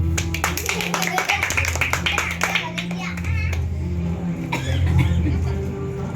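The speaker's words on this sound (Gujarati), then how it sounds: "તાળી પાડો." A burst of quick hand claps from a group at a children's Ganesh quiz, dense at first and then thinning, with a voice and room chatter mixed in.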